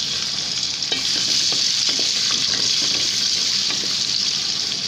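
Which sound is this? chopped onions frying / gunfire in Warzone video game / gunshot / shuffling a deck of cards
chopped onions frying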